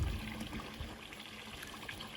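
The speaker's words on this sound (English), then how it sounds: "small waterfall and 2 ponds" Small garden waterfall trickling into a pond in a quiet garden, a soft continuous splash and babble, close and steady with no voices.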